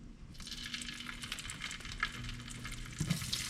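Chicken sizzles steadily in a pan of hot butter and grapeseed oil, a dense, close crackling hiss with a few louder pops and spatters toward the end.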